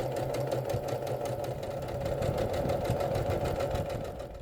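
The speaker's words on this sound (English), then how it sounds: "I'm just going to chain stitch all of these" A sewing machine chain-stitches glued quilt pieces for a small mini quilt, running in a steady, rapid mechanical rhythm at close range without pause.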